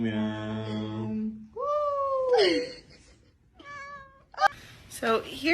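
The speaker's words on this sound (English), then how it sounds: "Guys, check out my cat." A pet cat meows several times in a row, its calls rising and falling in pitch and fairly close, with a human voice talking at the start and between the cries.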